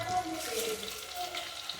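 Chicken pieces frying in ghee in a pan, a soft crackling sizzle with faint hissing and light stirring, fairly quiet and close, no clear talk.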